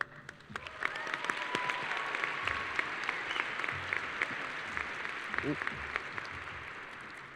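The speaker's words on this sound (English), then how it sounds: "give him a huge round of applause" A crowd at a high school graduation applauds the principal, with sustained clapping and scattered cheers filling the hall and a few voices murmuring underneath.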